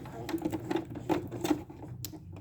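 A sewing machine back stitches on fabric in short bursts, its needle clattering rapidly, pausing and restarting close by.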